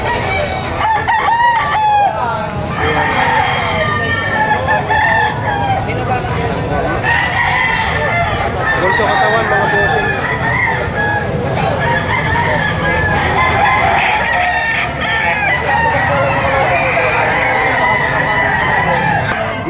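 Roosters crow again and again at a busy, rain-soaked chicken market in Padre Garcia, Batangas, with overlapping loud calls and clucking alongside voices talking nearby.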